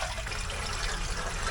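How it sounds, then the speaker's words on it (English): Hot water runs from a tap in a steady, even rush that is close and constant, with no voices over it. "Hot water out of the tap."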